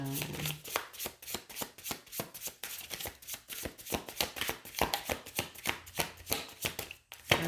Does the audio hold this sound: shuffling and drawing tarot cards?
yes